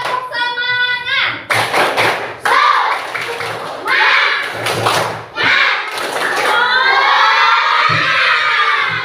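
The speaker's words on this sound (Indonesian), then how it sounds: "1, 2, 3, tepuk semangat." Children in a classroom perform a rhythmic clapping chant, loud bursts of claps and thumps alternating with shouted voices and excited chatter, close and lively throughout.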